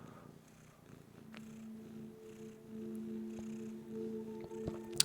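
A cat purrs close by, a soft continuous rumbling purr with a few faint clicks and a brief sharp sound near the end.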